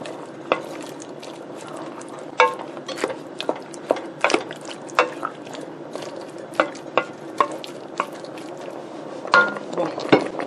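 Slimy smoked okra sauce simmers in a pot, bubbling steadily with irregular pops and soft splutters that grow busier toward the end. There is no talking.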